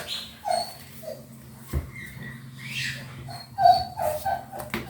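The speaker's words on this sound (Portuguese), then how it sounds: "Não repara o barulho que são meus cachorros." Dogs nearby give short yips and whimpers in scattered bursts, with a few sharp thumps, in an otherwise quiet room.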